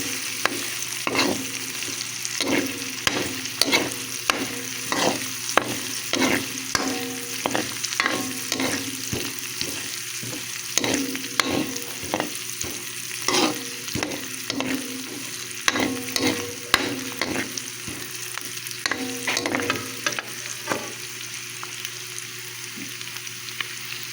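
Pork, broccoli and quail eggs stir-fried in a wok (kawali), with steady sizzling and repeated clattering scrapes of a spatula in a brisk rhythm, close and continuous with no talking.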